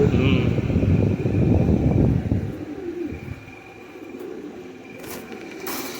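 Soft, low cooing of a pigeon hen rumbles close by, strongest early on, then fades into quiet background noise.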